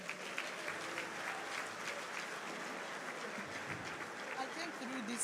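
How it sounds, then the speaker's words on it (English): Audience applause at the opening ceremony of the 2025 Nigerian Society of Engineers conference in Ibadan, a dense, sustained clapping from a large crowd filling the hall, steady and loud throughout with faint voices underneath. "A round of applause for Her Excellency for that wonderful, wonderful, wonderful speech"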